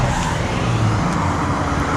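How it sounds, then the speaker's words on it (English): A blue truck drives by on a road, a loud, close, broadband rumble of tires and engine that holds steady for the whole moment. "here comes that blue truck"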